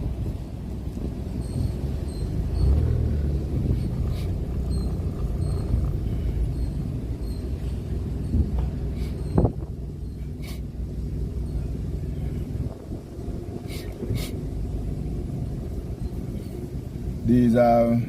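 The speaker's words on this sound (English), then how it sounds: "Waltham traffic." Road traffic in Waltham rumbles on as a continuous low roar of passing vehicles, fairly loud, with occasional sharper clicks and knocks over the steady wash.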